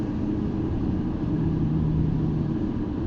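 A 2018 BMW X3 M40i is driven in comfort mode, its engine a subdued, steady low hum and road rumble heard from inside the cabin with no voices.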